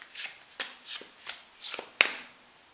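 Angels and ancestors oracle cards being shuffled by hand: about six quick riffling bursts, each a papery flutter and a soft slap, spaced roughly half a second apart and close to the listener.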